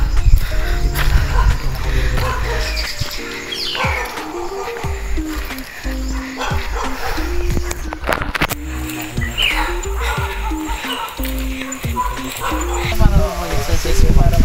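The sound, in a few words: dog barking on trail to the beach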